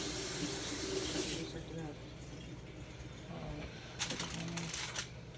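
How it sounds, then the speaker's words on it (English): Water runs from a kitchen sink tap as a steak is rinsed under it, a steady close splashing rush that thins after a moment, with a few clinks and brief voices over it. "Rinse that steak off."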